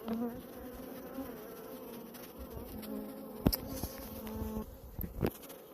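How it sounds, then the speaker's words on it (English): Agitated honey bees buzzing around a hive as rain starts, a close continuous insect drone at low level with a few sharp knocks and crackles. "so the bees are getting agitated"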